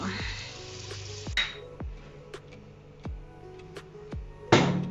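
Meatballs sizzle and crackle in a hot pan taken from the oven, a steady frying hiss broken by sharp ticks and metallic knocks, with a louder clatter near the end.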